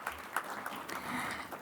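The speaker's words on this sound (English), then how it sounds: "Can we have a big round of applause for all our panelists," An audience at a fintech and MSME funding panel event claps for the panelists, a faint, dense patter of applause heard from a distance.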